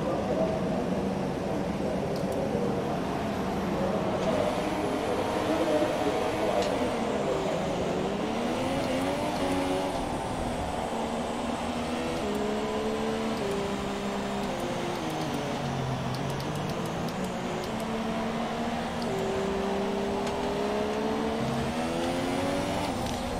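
F1 race car engine in the racing game F1 2017 on a formation lap at the Austrian Grand Prix, a steady droning whine that rises and falls as the car revs and shifts, with no talk over it.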